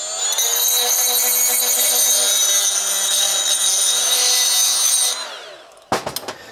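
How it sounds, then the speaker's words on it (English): A Milwaukee die grinder with a carbide bit deburring the edge of a stainless steel tube, a loud, steady, high-pitched whine for about five seconds that winds down, then a few clanks of metal. "So I've got this on a Milwaukee die grinder. This is just a carbide bit, and I'm going to go around and remove the burrs off this tube."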